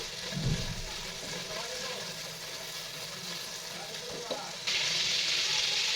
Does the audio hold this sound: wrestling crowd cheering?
no